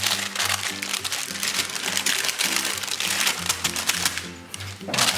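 Paper edges are folded up by hand to seal a salt-baked whole fish, giving a close, busy crinkling and rustling that carries on throughout.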